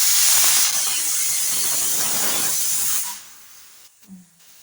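Loud, steady steam hiss rising from a pot of peas boiling on the stove, holding strong for about three seconds before cutting off abruptly into quiet with a few faint clinks.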